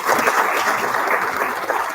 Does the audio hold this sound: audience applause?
yes